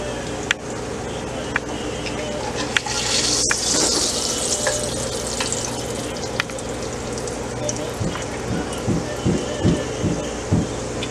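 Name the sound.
tortillas frying in a pan for enchiladas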